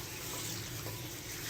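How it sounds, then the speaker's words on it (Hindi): Mutton sautéing in a pan over a medium-low flame, a steady broadband frying sizzle that holds at an even level throughout, close and continuous with no talking. "यहाँ पर अब हम मीडियम टू लो फ्लेम पे इसकी भुनाई करेंगे, कम से कम 5 से 7 मिनट के लिए।"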